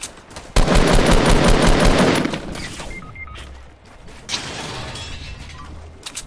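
Close, loud machine-gun fire in Fortnite, a dense rapid burst lasting about two seconds, then quieter scattered shots and mechanical clatter.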